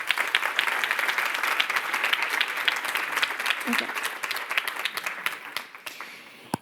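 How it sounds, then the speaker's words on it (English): An audience applauds steadily, dense clapping that slowly thins out, with a brief spoken word partway through. "let's give them a warm applause."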